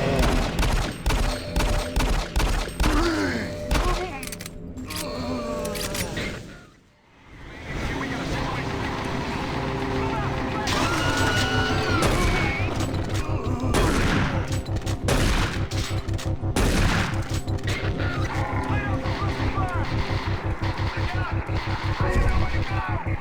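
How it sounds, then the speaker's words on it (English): Shotgun gunfire in Doom 3 cracks out in dense, repeated loud blasts amid other combat noise, with a brief lull partway through and talk running over much of it. "We just got a new weapon as you saw, the shotgun."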